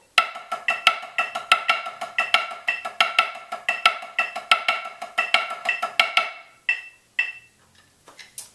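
A snare drum close by plays rapid triplet strokes in an even, driving rhythm with periodic louder accents, carrying on for several seconds before thinning to a few scattered hits at the end.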